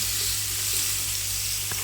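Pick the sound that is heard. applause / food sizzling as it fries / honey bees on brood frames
food sizzling as it fries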